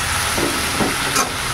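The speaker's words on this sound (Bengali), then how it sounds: "মশলাগুলো দিয়ে ভালো করে কষে নিই।" Spices being fried and stirred in a pan for a Bengali fish curry give a steady, moderately loud sizzle with soft scraping bursts as the masala is worked, and no one speaks.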